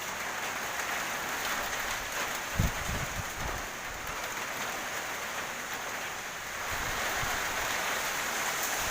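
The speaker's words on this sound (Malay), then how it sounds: "inilah kondisi keadaan hujan." Rain falls in a strong wind as a steady, dense hiss with gusty swells, plus a few low thumps partway through, close and continuous with no talking.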